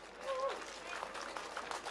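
Outdoor crowd clapping at a London farmers' protest over inheritance tax, a short continuous patter of many hands at moderate distance, with some voices and a faint whistle mixed in.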